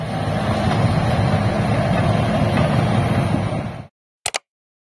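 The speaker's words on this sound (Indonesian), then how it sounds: "Bulldozer atau mesin penggusur adalah jenis peralatan konstruksi bertipe traktor menggunakan trek atau rantai serta dilengkapi dengan bilah yang terletak di depan" A bulldozer engine runs with a loud, steady low rumble and heavy wind-like roar that holds for nearly four seconds, then cuts off abruptly, followed by two brief faint blips.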